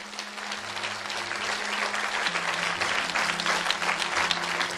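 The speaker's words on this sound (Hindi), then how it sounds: "आइए तालियां बजाइए इन लोगों के लिए" A church congregation applauds its leaders, steady clapping from a crowd with a low hum beneath, filling the space throughout.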